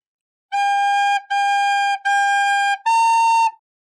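A beginner's recorder plays four clear sustained notes, three of the same G pitch followed by a slightly higher A, each held under a second with short gaps, bright and close with no talking.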